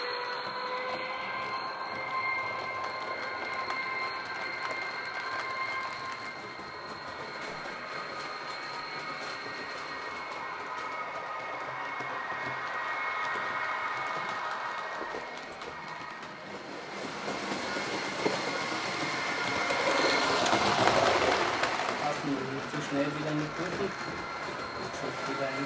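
A model ÖBB electric locomotive runs along its track, a steady whirring rumble with rail clatter that swells louder toward the end, while someone talks over it.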